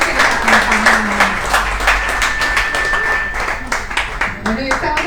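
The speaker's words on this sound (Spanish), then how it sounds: "démosles un fuerte aplauso a estas mujeres preciosas que nos acompañan hoy" A church congregation claps steadily for several seconds, with voices and cheering mixed into the applause.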